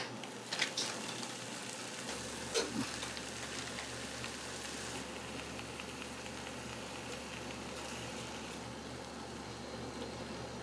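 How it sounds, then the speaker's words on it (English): Bacon fries in a pan for potato soup, a faint, steady sizzle with a couple of soft clinks near the start, no voices over it. "Now let's get this bacon cooked."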